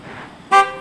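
A single loud car horn honk blares about halfway through, preceded by quiet outdoor ambience and cutting off abruptly.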